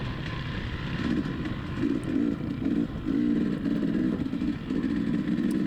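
Dirt bikes race on a dry, dusty motocross track at the Eddieville GP in Goldendale, Washington, their engines buzzing loudly and continuously with rhythmic revving pulses as the throttle opens and closes, close by.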